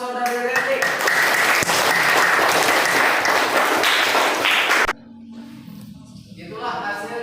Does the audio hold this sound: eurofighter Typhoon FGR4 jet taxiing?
no